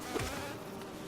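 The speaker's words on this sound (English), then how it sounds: "You are annoying bees." Bees in the Hive area of the Hollow Knight video game, a short, faint, steady insect buzz with no talking.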